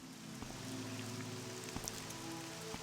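Rain falls steadily in the game Morrowind, a dense, even hiss of drops with occasional faint clicks, continuous and fairly quiet, with no talk.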